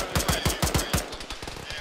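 Rapid automatic gunfire from a military video game, a burst of close, loud repeated shots in quick rhythm followed by a few scattered rounds.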